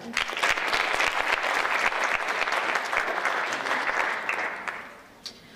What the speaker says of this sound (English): Let's have another round of applause for the Black Ice Group in self-expression.